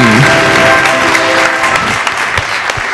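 Audience applause in a TV game show studio, a dense continuous wash of clapping, loud and close at first and then thinning slightly toward the end.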